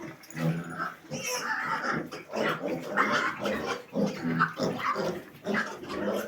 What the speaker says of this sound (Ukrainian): Це є наші свинки мама трьохпородний гібрид